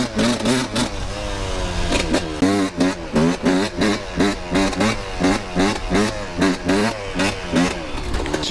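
A dirt bike engine revs hard in repeated surges for wheelie practice, each throttle blip climbing and falling in a steady rhythm, loud and close throughout the whole stretch with no talking.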